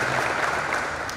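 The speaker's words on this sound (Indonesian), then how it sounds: "Bapak Chris Buik, kita kasih tepuk tangan." Brief burst of audience applause at the opening ceremony of a futsal player selection event, a dense wash of clapping lasting about a second.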